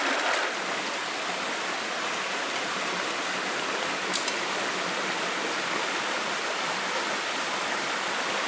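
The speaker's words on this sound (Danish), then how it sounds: "vi har rindende vand lige herovre bagved" Steady broadband rush of running water from a stream in the Swedish wilderness, a continuous even wash with no voices and one faint brief click partway through.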